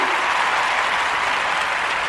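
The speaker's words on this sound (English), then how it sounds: "I give you a clap." A short burst of dense applause, many hands clapping steadily at an even loudness throughout.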